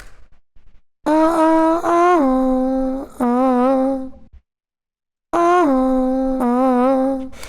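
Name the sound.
dry vocal run without effects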